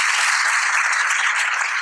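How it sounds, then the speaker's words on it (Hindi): Steady, loud applause from a crowd of students at a celebration, many hands clapping continuously without a break. "तो एक बार जोरदार तालियां आप सभी के लिए।"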